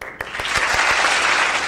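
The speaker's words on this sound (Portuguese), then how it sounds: "Palmas para os nossos representantes!" Audience applause at a political event in Amazonas, Brazil, a dense steady wash of clapping that swells after a few sharp claps and holds loud throughout.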